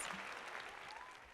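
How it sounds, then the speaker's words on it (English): A round of applause added in editing, a short burst of dense clapping from a crowd, steady and fairly loud throughout, with no talk over it. "We'll add a round of applause here."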